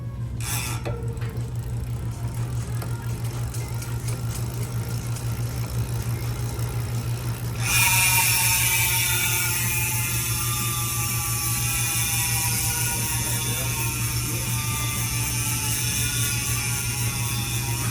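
A freehub ratchet on Revolve CLX Terra 2 gravel bike wheels buzzes loudly and steadily after a quieter mechanical hum, a continuous rapid clicking that carries to the end with no talking.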